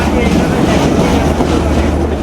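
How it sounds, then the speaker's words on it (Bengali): A Mahananda commuter train rolls away from Bejer Danga station on the Khulna to Jessore line, giving a loud, continuous rumble and rattle of carriages and wheels heard up close from on board. "ট্রেন ছাড়ার সাথে সাথে ট্রেন কিন্তু স্পিড নিয়ে নেয়"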